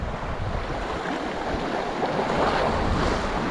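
Sea waves wash steadily against the rocky shore of St Mary's Island near Malpe at sunset as the tide rises, a constant broadband rush mixed with wind noise and no voices.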